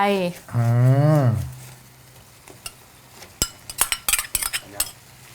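Grilled fish is added to a pot of simmering coconut curry with curry paste, followed by clinks and scrapes of a utensil against the pot, while someone speaks at the start.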